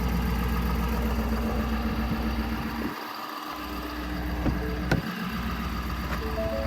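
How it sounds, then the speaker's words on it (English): A 2023 Ford F250 XL with a 6.7 liter Powerstroke turbo diesel V8 idles outdoors in the wind, a steady loud low rumble with a few faint clicks and no talking. "sorry for the noise, this engine is loud,"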